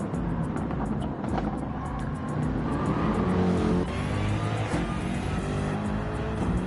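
Race car engine in Gran Turismo 7 droning loudly and continuously at speed, with faint tire squeal and a surge in revs midway.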